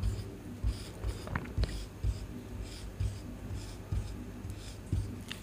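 Marker or chalk writing on a board during a lesson on types of wind, soft rhythmic strokes and taps repeating close by with faint background hiss.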